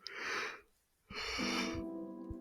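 A person yawns, a breathy drawn-out exhale that fades, then a second long voiced yawn follows, close and quiet, with no speech.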